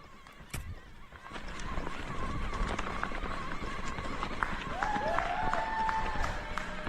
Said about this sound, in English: we can hear the cheering